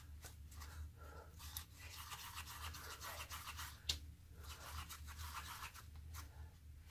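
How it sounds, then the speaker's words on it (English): A mixing stick scrapes leftover resin powder off the side of a cup, making soft, repeated scratchy strokes over a low background hum, close and fairly quiet. "I'm scraping off on the side."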